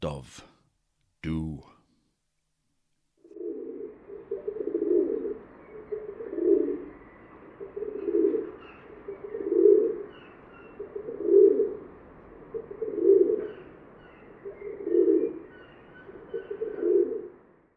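Rock dove cooing: a voice speaks briefly first, then a run of about nine soft, low, rolling coos repeated at an even pace, close and clear.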